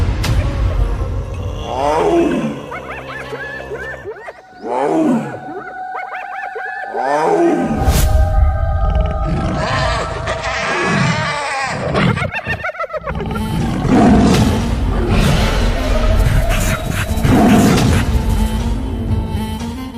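A cartoon tiger and hyena fighting trade repeated loud roars and snarls, with crashing impacts and bursts of dramatic background music between the cries.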